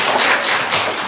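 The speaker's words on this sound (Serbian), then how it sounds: "aplauz za N" Audience applause at a talk about letters and sounds: a dense, steady burst of many hands clapping together, loud and sustained throughout.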